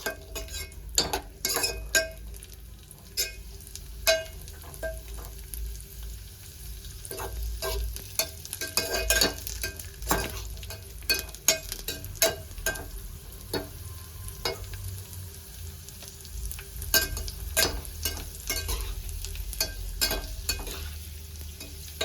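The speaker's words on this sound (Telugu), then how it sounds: "బాగా కలుపుకుంటూ వేయించుకోవాలి" Boondi frying in a pan of oil and being stirred continuously, a steady low sizzle broken by repeated metallic scrapes and clinks of the ladle against the pan, close up and with no one speaking.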